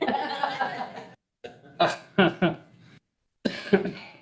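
Several short coughs from a person with a cold come in bursts separated by brief silences during a board meeting, close to the listener and moderately quiet.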